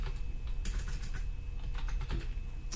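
Steady typing on a computer keyboard while entering Excel spreadsheet data, a dense run of close, crisp key clicks with a few sharper spacebar or Enter strikes.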